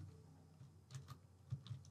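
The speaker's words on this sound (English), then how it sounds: "I'm just typing here." Computer keyboard typing while filling in form fields, a few soft scattered keystrokes close by in a quiet room.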